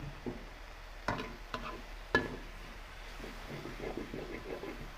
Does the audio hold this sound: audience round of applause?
no